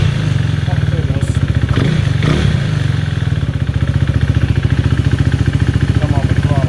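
A KTM Duke 390 single-cylinder motorcycle with an aftermarket Powertronics ECU catches and settles into a steady, pulsing idle close by, with a few brief clanks early on.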